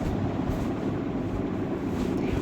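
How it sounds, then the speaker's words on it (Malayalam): A small ride-on train at a children's play area, a steady low rumble and rattling clatter of the cars rolling along, close and continuous with no pauses. "ഞങ്ങൾ ട്രെയിനിൽ പോണു ഗൈസ്"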